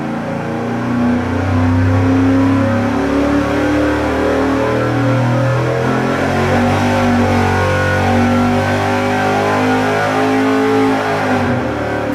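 A nitrous-fed Chevy 305 engine revs hard on a dyno, a loud sustained roar with rising and falling tones lasting the whole stretch, heard alone.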